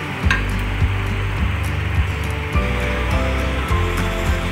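Yogurt and masala fry in a pan for beef kofta curry, giving a steady close sizzle with periodic scraping thuds as a spoon stirs the thick mixture against the pan.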